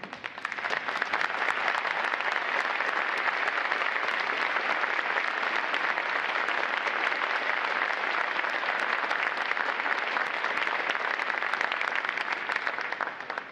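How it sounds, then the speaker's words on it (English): Sustained, dense applause from a large audience at a U.S. Navy Recruit Training Command graduation ceremony, honoring standing veterans; steady and loud for about thirteen seconds without a break. "Would all our veterans please rise for a round of applause"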